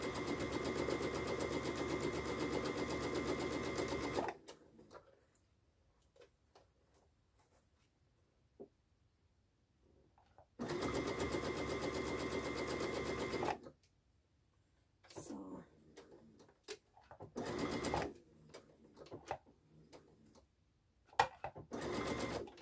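Organza hair scrunchies are stitched on a sewing machine, which runs in two long, steady bursts of motor hum and several shorter spurts. Quiet handling sounds fill the pauses between runs.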